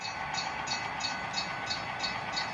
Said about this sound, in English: You will notice that the steam engine is not having any trouble pulling it over